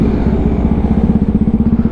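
Cafe 400 motorcycle engine idling close up, a loud steady rhythmic thumping putter with fine clatter, heard alone for two seconds.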